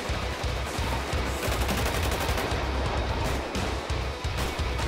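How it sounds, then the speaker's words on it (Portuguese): Video game gunfire in GTA RP during a gang war, with shots fired from atop a building. Loud, continuous bursts of rapid shots repeat in a steady rhythm across the whole stretch. "Tiro de cima do prédio, pessoal!"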